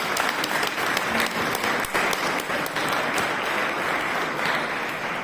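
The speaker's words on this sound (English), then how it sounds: "I think Dr. Saxena needs a really big round of applause." Sustained audience applause at a school prize-giving day, a dense, steady wash of many hands clapping for about five seconds with no break.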